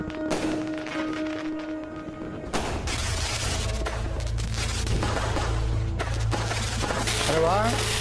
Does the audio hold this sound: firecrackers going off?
yes